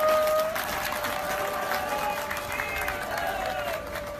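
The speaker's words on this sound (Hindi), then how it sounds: "जोर से शंखनाद के लिए भी तालियां बजा दीजिए" A crowd at a public gathering applauds, with a sustained wash of clapping heard through a loudspeaker system, while a long horn-like tone, likely a conch shell blown, rings over it. A voice speaks underneath.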